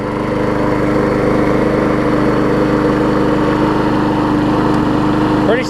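An old, rusty Murray push mower with home modifications and a wired bail cable runs at a steady, loud, even drone close by, with no pauses or surges.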